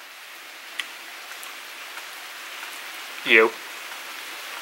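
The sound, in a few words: heavy rain falling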